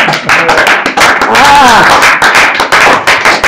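Church congregation clapping and acclaiming the Lord, loud close rhythmic hand claps mixed with shouts and voices, dense and energetic throughout.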